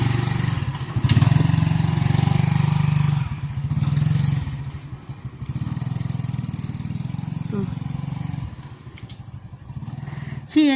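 A motorcycle engine idles roughly and nearly stalls, a loud steady low rumble that sags and surges through the clip, with brief sharper mechanical noises near the end.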